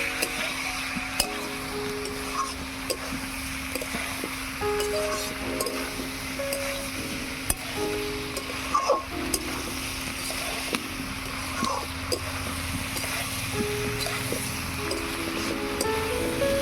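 Fried prawns stirred into sautéing pointed gourd and vegetables in a pan, giving a steady low sizzle with occasional clinks and scrapes of a spatula throughout.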